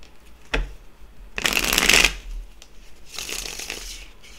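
A tarot card deck is shuffled, with a soft click and then two quick riffling bursts separated by a short pause, close and clear with no talking.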